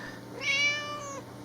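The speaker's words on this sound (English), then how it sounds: "we have our cat hoping that I've dropped some food" A house cat meows once in a kitchen, a single clear, close, rising and falling call lasting about a second, with no talking.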